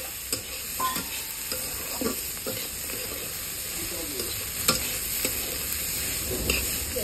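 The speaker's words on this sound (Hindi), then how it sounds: "यहाँ मैं बना रही हूँ करेला और आलू का सब्जी।" Bitter gourd and potato curry stir-fried in a pan, with a steady frying sizzle and repeated scraping stirs from a spoon, close and continuous with no talking.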